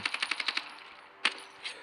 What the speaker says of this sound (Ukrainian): трішечки постріляю